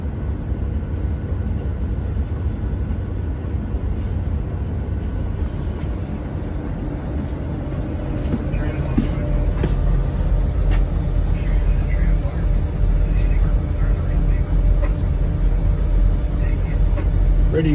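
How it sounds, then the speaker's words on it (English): A GE Dash-9 locomotive rumbles steadily at a rail yard hump test in Northtown, Indianapolis, a continuous heavy low drone with faint clanks and squeals, growing slightly louder partway through. "Ready to go for first hump test at Northtown, Indianapolis, on a -9 GE locomotive."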